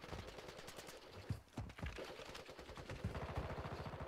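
Rapid automatic gunfire rattles through a fight in Warzone, steady bursts of closely spaced shots at moderate distance with a brief lull before the firing picks back up.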